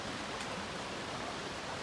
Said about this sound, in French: La chute, elle est juste là.